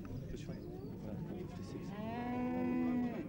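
Cattle at a 1971 Irish fair day in Ballyhaunis low repeatedly, ending in a long, loud sustained moo, with the mixed murmur of a busy livestock fair around them.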